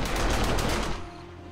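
Automated turrets fire guns in the 7 Days to Die video game during a blood moon, a loud, rapid burst of gunfire that cuts off after about a second, leaving a low echoing tail.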